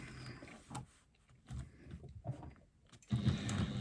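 Bursts of sewing machine stitching as foam is basted into place around a lining, short runs separated by pauses, close by.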